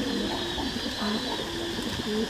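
Domestic pigeons at a breeding farm in Buôn Đôn, Đắk Lắk, give soft, low, repeated coos throughout, moderately close, over a steady background hiss.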